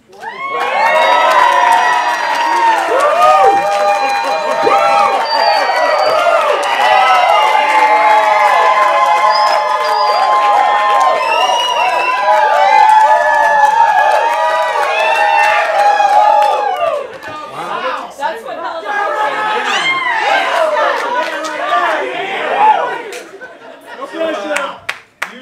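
Wedding guests cheering, shouting and clapping loudly after a reception toast, a dense crowd roar that holds steady for many seconds, then dips and swells again with scattered whoops and voices.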